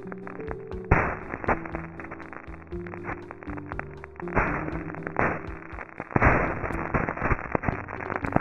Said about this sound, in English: when it blows up, it actually releases chromium 6.